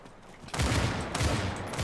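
Rapid gunfire from the shooter game Battalion 1989 breaks in abruptly after a quieter moment, then continues as loud, close bursts of automatic fire.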